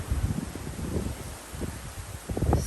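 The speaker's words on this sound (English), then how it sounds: "still getting some wind" Gusty wind moving through storm-battered yard trees after a night storm, a steady rustling roar with uneven surges that swell and fade, strongest near the end, with no voices.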